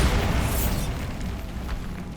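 The Bombarda spell from Hogwarts Legacy detonates in a single heavy, close boom that rumbles and crackles, then decays over about two seconds.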